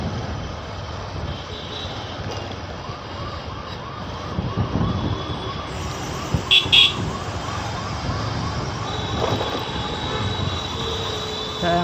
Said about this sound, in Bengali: অ্যাম্বুলেন্স সব জামে আটকে।